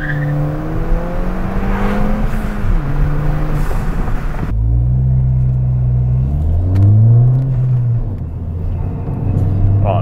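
A Stage 1 tuned turbocharged Ford Fiesta ST engine revs hard and climbs through the gears, close and loud, with rising and falling pitch sweeps and brief drops between shifts.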